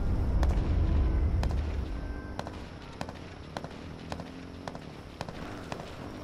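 Gunfire rings out in the H1Z1 Battle Royale video game: a string of sharp, evenly spaced shots, moderately loud, following a rumbling engine at the start.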